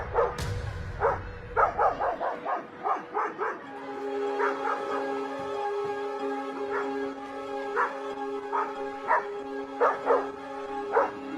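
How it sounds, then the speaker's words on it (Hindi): Dogs bark inside a school building, a run of sharp, repeated barks and yips sounding close and fairly loud, continuing with short pauses throughout and no talking. "स्कूल में फिर से कुत्ते घुस गए।"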